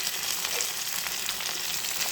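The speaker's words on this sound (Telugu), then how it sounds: "ఆయిల్ వేడైన తర్వాత క్యారెట్, ఆలు వేసుకొని క్యాబేజీ కూడా ఇందులో వేసుకొని" Carrots, potatoes and cabbage fry in hot oil with green chillies in a pan for noodles, giving a steady, close, even sizzle with a faint stirring texture and no voices.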